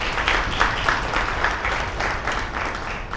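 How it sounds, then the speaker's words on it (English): An audience at an awards event applauds program participants with dense, sustained clapping from many hands, steady and fairly loud throughout with no talking. "Please let's give them a round of applause."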